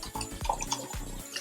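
A makeup brush container being rinsed under running water, giving a short, close burst of splashing and dripping with no voice.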